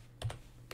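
A few soft keystrokes on a computer keyboard while typing a search into Visual Studio Code, three quick faint clicks over a low hum.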